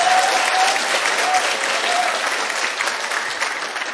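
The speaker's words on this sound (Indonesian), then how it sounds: "tepuk tangan dong gitu" Audience applause fills a business presentation hall, a dense, steady wash of many hands clapping throughout, loud and sustained with no talk over it.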